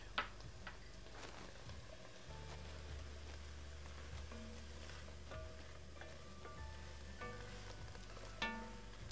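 Minced garlic cloves sizzle quietly in a pan while chili cooks, a faint, continuous frying hiss with scattered ticks from stirring and a low steady hum beneath; no one speaks.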